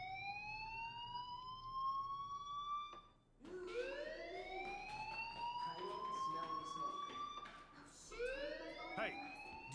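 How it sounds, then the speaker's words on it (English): A fire alarm rings in the Life is Strange video game, a loud, continuous wailing with rising electronic sweeps that pauses briefly and then resumes, repeating through the whole stretch. "do you hear that fire alarm? That means you should be outside."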